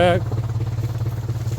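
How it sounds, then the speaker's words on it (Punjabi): A tractor engine idles close by on a farm in Italy, a steady chugging with a regular pulsing rhythm, after a brief burst of voice at the very start. "ਮੈਂ ਵੀ ਟਰੈਕਟਰ ਸਿੱਧਾ ਪੱਧਰਾ ਕਰਾਂ"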